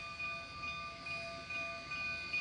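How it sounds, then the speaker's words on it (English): A steam train rumbles in the distance with a faint, steady hum and thin high whines from the track, no voices present. "There's a train just coming in now."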